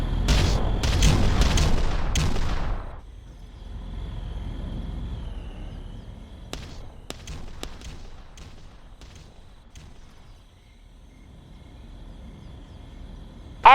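Artillery bombardment in the strategy game Ground Control: a dense burst of heavy booming explosions crowds the first three seconds, then gives way to scattered sharper distant blasts and a low rumbling bed, with no voices.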